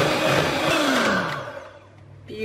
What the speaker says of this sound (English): So we'll start whisking.